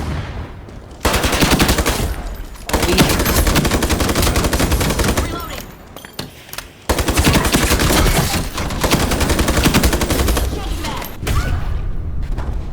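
Gunfire in the video game Ironsight, with sustained loud bursts of rapid automatic fire separated by brief pauses, dense and close, while a voice talks over it.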